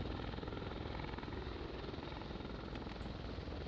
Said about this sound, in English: they have an Apache helicopter